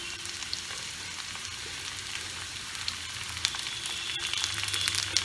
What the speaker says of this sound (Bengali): এবার এর সাথেই আমি বিনসটা দিয়ে নেব, কারণ বিনসটা আমি বেশি ভাজবো না।